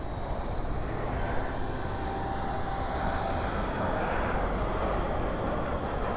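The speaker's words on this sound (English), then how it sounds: "UPS 757 off to Ontario, which is what we're looking at here" A UPS Boeing 757 jet departs at night, its engines producing a steady, loud, broadband roar that holds constant throughout.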